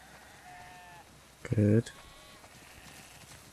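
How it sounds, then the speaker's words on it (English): In The Last of Us Part II, a game sheep lets out one loud, close bleat in the middle of the clip, while a voice speaks briefly and soft ambience runs underneath. "Wow. That's a lot of sheep."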